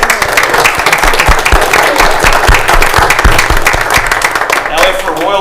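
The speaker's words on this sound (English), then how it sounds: "Round of applause for the kids." Sustained applause fills a room at a Lake County, Ohio county commissioners meeting honoring Ohio 4-H Week, loud and dense with sharp individual claps throughout, fading slightly toward the end.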